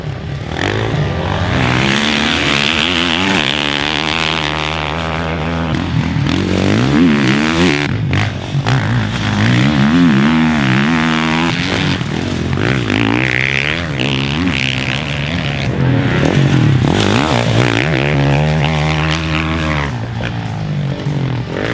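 A 2021 Gas Gas MC450F motocross bike engine revs hard and loud, rising and falling through repeated throttle blips and acceleration with a continuous close roar.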